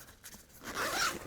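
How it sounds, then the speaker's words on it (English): A zipper runs along the zip pocket inside a camera backpack, one short, close rasping pull that grows louder toward the end. "inside here, you've got a zip pocket on this side"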